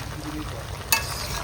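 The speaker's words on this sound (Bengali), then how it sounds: "মাংস কষাচ্ছি।" Goat meat stir-fried in a hot pan at a family picnic, a steady close sizzle with a brief scrape of the spatula partway through, no talking.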